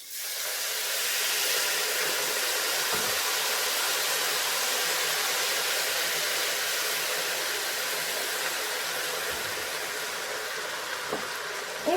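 Broth poured onto sautéed rice in a pan while making an autumn risotto with chestnuts and red kuri squash gives a steady, even sizzling hiss that lasts throughout, with a few faint clinks.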